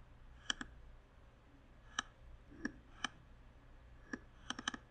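Sharp computer mouse clicks while working in astronomy software, several isolated single and double clicks at irregular intervals over a quiet room background, close and crisp, with no talking.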